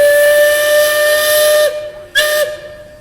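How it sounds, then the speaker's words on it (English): The steam whistle of the Liberty Square Riverboat at the Magic Kingdom blasts loud and close, a long sustained hissing tone followed by a shorter second blast. "That is one loud whistle."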